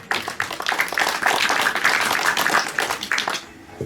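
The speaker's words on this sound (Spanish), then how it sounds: "Entonces un aplauso." A crowd at a fiftieth anniversary gold wedding celebration claps in a dense, steady burst of applause lasting a few seconds before fading out abruptly.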